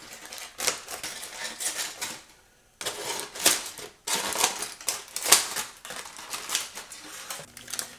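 Scissors snipping through a foil packet of cooked ribs at close range, a run of crinkly, papery cuts and rustles in bursts, with one brief pause partway through; no voices.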